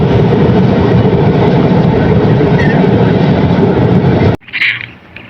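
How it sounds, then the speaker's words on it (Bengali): A train passes close by a fishing spot, its loud continuous rumble and rattling wagons filling the air for several seconds before cutting off abruptly, leaving quiet outdoor ambience. "দেখেন আপনারা, ট্রেন যাচ্ছে এখান দিয়ে"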